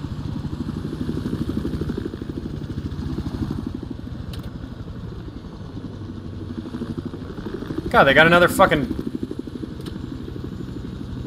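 Helicopter gunship in Battlefield 4, a steady chopping rotor and engine drone throughout, swelling briefly into a louder roar near the end, with someone talking over it.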